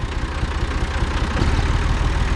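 A tractor engine idles under light hand throttle on sloping ground, a steady low rumble with a fast even throb that holds close and moderately loud for the whole stretch, with no talk over it.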